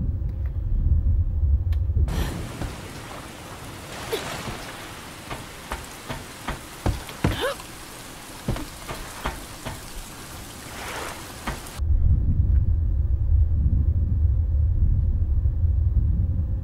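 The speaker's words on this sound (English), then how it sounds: "Uh-oh, looks like we got a storm coming in." Heavy rain hisses steadily over a deep rumble, with scattered sharp crackles and thuds like thunder and heavy drops, framed by low droning rumble before and after, in the video game Stranded Deep.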